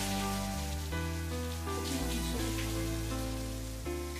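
Steady rain in a TV drama scene hisses beneath loud, sustained music chords that shift slowly and dominate throughout.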